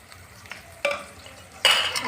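Vegetables and red and green chillies with salt being stirred in a frying pan while cooking potato, peas and aubergine, with two bursts of sizzling scraping after a quiet start.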